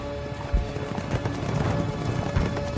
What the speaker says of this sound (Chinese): 有马蹄声。